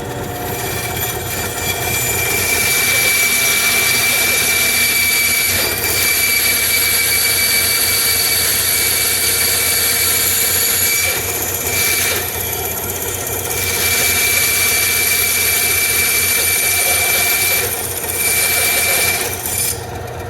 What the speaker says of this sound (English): I think the best way to cut the slot is just run it through the bandsaw.